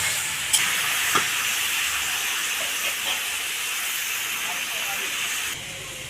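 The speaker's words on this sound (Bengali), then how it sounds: "একসঙ্গে আমি ভেজে নেবো, আলু আর ইঁচড় দুটো একসঙ্গে ভাজবো" Boiled jackfruit and potato pieces fry together in a kadai, giving a steady, even sizzling hiss that runs the whole time at close range, broken by a couple of faint clicks and ending a little quieter.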